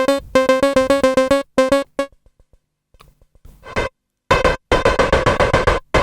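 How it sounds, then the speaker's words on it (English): Synth sequence run through the resonator effect of an Alesis Quadraverb, sounding as rapid, loud, evenly pulsed tonal bursts that drop out into near silence with a few faint ticks, then return in a dense, fast run. "So now what you're hearing is the resonator."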